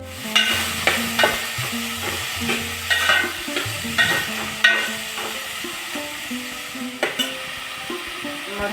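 Onions are tossed into hot oil with turmeric and cumin for a village-style garlic-onion sabzi, a spatula clanking and scraping in a steady rhythm over continuous sizzling, close and fairly loud, with no voices.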